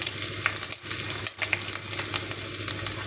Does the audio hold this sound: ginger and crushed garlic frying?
yes